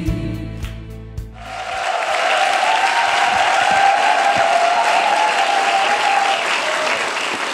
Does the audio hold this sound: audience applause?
yes